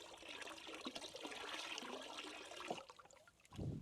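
Lime water poured in a thin trickling stream into copper sulphate solution in a container, a steady close splashing pour that stops briefly, then ends with a lower gurgle.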